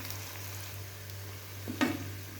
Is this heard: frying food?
yes